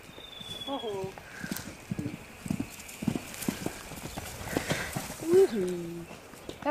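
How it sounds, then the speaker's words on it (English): A foal's hooves clip-clop in a quick cantering rhythm on firm ground, with short whinny-like calls and a person talking nearby over the steady hoofbeats. "The foal likes the canter."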